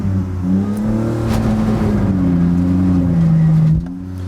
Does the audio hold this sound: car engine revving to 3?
yes